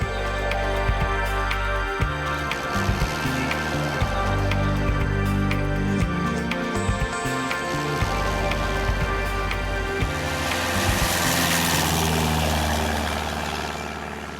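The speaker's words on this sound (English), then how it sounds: "Just received the clearance for takeoff." An aircraft engine roars through a takeoff roll, a loud continuous drone with rattling and bumping, building to a strong broadband rush near the end.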